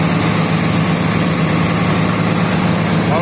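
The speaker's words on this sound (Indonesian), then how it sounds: "Ininya hidup, mesin Komatsunya hidup" A Komatsu excavator engine runs steadily at a constant rough idle hum, close and loud with no talking.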